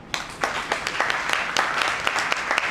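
An audience at a network marketing training meeting in Meerut claps in a loose, uneven patter of individual hand claps, moderately loud and close.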